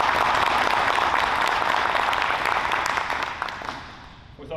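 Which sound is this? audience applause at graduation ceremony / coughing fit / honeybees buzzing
audience applause at graduation ceremony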